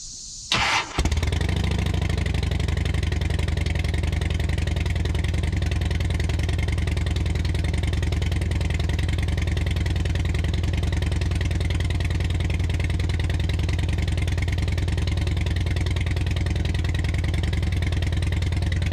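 A Harley-Davidson Dyna motorcycle engine fires up and settles into a loud, steady, low rumbling idle to warm up, continuing close and unbroken with no voices.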